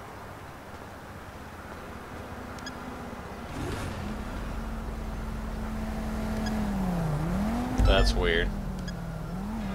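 A car engine idles steadily in GTA V with a low, continuous hum that rises and dips slightly near the end, while a voice talks over it.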